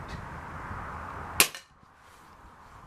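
A BSA Airsporter Mk6 air rifle fires a single pellet, one sharp, close crack standing out against quiet background and fading quickly.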